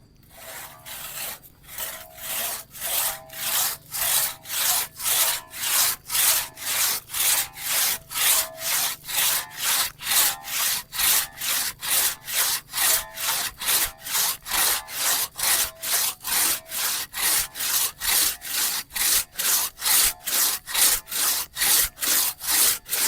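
A hand saw cuts steadily through wood: loud, rhythmic back-and-forth rasping strokes, roughly two per second, continuing without pause and with no talk.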